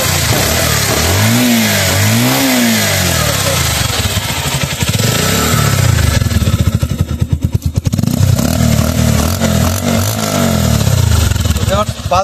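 Loud, close 2023 Pulsar motorcycle with about 7,294 km on it revving repeatedly, throttle rising and falling over a running engine, with someone talking over it at times.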